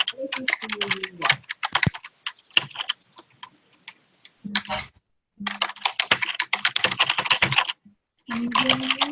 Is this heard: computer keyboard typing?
yes